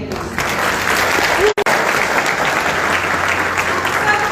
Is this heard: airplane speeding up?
no